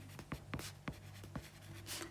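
A pen sketches a graph on paper in short quick strokes, a handful of distinct scratchy swipes with brief pauses, close and quiet, no talking.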